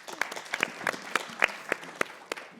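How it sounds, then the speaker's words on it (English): Estate agents in a conference audience clap at a property panel session, a brief scattered round of separate claps from a small group, fairly close and irregular. "All the agents in the room have just clapped."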